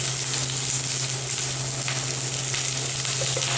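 Dried red chilies, slit green chilies and curry leaves fry in hot oil, giving a constant loud sizzle with faint crackles over a low steady hum, without any talking.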